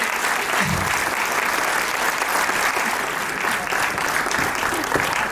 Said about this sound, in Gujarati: ખૂબ જોરદાર તાળીઓ થવી જોઈએ.